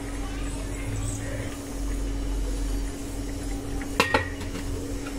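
A lid closes on a steamer holding kavuni rice idli, making two brief metallic clinks against the pot over a steady low hum in a home kitchen.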